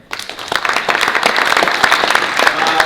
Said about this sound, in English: I'd like to start with a round of applause for the BIA.